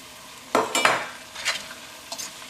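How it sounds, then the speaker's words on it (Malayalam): Pieces of fish go into a spiced pickle (meen achar) in a pan and are stirred through, with a few close wet scrapes and clatters over about two seconds and no voices. "ഇതിലേക്ക് നമുക്ക് മീൻ ചേർക്കാം."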